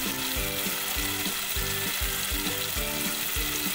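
Red chili masala roasting in oil for a halwa fish curry, a loud close sizzle with regular rhythmic scraping strokes of a stirring spoon against the pan.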